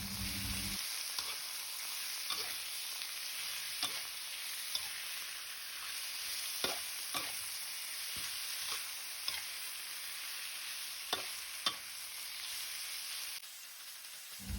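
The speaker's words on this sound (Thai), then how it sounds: "ใส่เนื้อหมูที่เราเตรียมไว้ลงไปผัดกับเครื่องแกงให้หอมค่ะ" Pork stir-frying with curry paste in hot oil, a steady crackling sizzle broken by repeated scrapes and clatters of a spatula against the pan, close and without talk.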